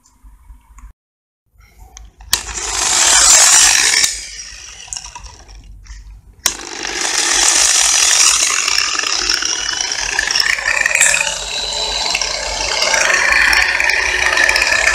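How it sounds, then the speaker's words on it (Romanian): An angle grinder sharpens a cheap Chinese chainsaw chain clamped in place, its motor whining loudly and steadily with harsh grinding hiss, briefly dropping out before starting up again and running on. "să vedem cum se ascute lanțul la drujbă cu"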